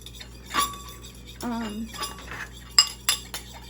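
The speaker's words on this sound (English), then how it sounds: "And I'm just gonna give it a stir" Jerk chicken pieces coated in spices are stirred in a dish, giving a few close metal-on-dish clinks and scrapes with a short sharp clatter near the end; a voice speaks briefly between them.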